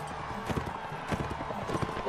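Rapid hoofbeats of a horse galloping in the video game Mount and Blade: Warband, a steady busy clip-clop rhythm that runs throughout, with a faint neigh mixed in.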